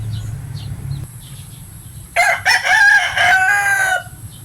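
A sweater gamecock rooster crows once, loud and close, in a long drawn-out call over quiet background hum.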